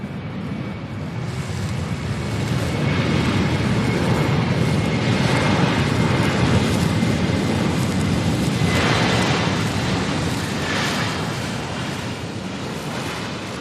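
An airliner arriving from Dallas-Fort Worth roars past at Louisville's SDF airport, a loud, steady broadband jet rumble that swells and holds throughout with no talk.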